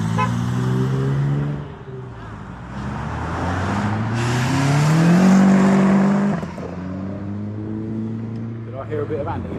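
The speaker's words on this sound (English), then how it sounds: "Hear a bit of anti-lag." Classic rally car with anti-lag at the Oh So Retro 2024 classic car show, its engine droning loud and close, rising and falling in pitch as it revs, with brief pops and voices nearby.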